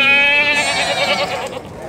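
A goat bleats loudly and close at a goat and sheep fair in Tabira, Pernambuco, one long wavering bleat filling the whole moment.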